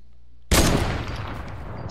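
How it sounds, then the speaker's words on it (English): Hand cannon firing in a video game match: a single loud blast that cuts in sharply at about half a second, then a long booming echo trailing off, no voices. "I'm gonna use this hand cannon."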